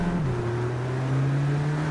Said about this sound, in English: Damn, this car is loud.